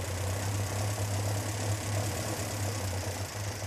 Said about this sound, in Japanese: アイドリングが落ち込んで1番が爆発をしていない状態ですね。